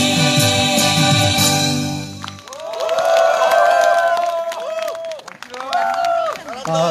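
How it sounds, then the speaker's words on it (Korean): Audience at an outdoor anti-THAAD candlelight rally in Gimcheon applauds and cheers steadily for several seconds after music ends, a broad crowd sound that carries on under and around the voices. "다시 한번 큰 박수 부탁드립니다"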